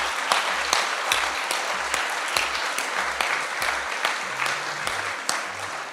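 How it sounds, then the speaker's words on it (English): An audience at a Stop the War event marking 20 years of the war on terror applauds, a steady dense round of clapping with sharp individual claps punctuating it, while a low voice or hum runs intermittently underneath. "Big round of applause for those as well."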